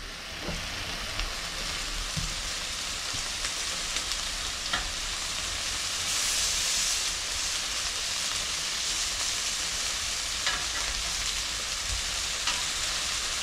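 Bacon-wrapped asparagus sizzling in a pan, a continuous soft frying hiss with a brief louder burst midway as pieces are flipped and a few light taps, no talk.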